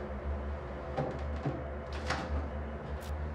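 Wooden cabinet doors are swung shut in a hotel room, with a few soft knocks and thuds spread over steady low background hum, fairly close and moderately quiet.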